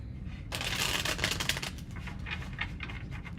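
Tarot cards are shuffled close up in a quick burst of dense papery riffling that then thins into separate soft flicks, heard alone with no talking.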